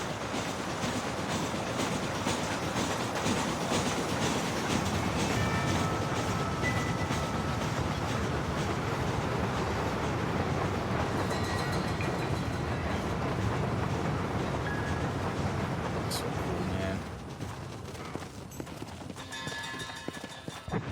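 A train rolls past in the Western game Red Dead Redemption, a dense, steady rumble with clattering wheels that holds loud for most of the stretch, then drops off sharply near the end as it moves away.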